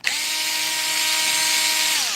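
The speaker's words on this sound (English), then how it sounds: "How soothing is this drill sound on your ears, guys?" A power drill whines steadily and close up for a couple of seconds while opening up a radio-controlled car, with a constant high-pitched motor tone and no talking.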